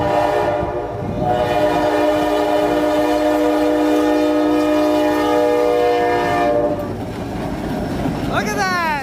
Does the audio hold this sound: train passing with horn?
yes